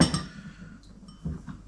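A spoon stirs a dressing for squid in a bowl. A couple of sharp clinks ring out at the start, quieter scraping follows, and another knock lands near the end.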